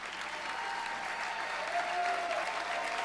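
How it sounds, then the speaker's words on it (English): An audience at a cattle-call event gives its board members a hand, with steady, dense applause from a crowd that carries on throughout. "please stand up and let's give them a hand of applause"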